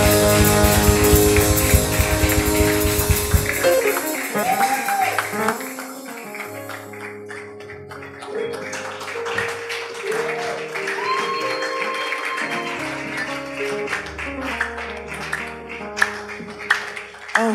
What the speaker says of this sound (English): Keep clapping till she comes up